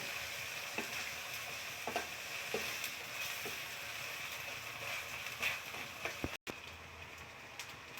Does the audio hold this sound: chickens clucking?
no